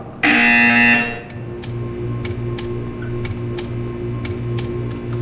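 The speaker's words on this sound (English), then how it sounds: "You will hear a buzzer." A loud, harsh electronic buzzer from the video game Portal 2 sounds for about a second, then stops, leaving a low hum with a steady ticking in the background.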